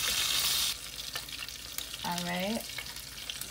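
Lamb shanks browning in a pan, sizzling loudly at first, then settling into quieter frying beneath a short spoken remark and a brief squeaky tonal sound.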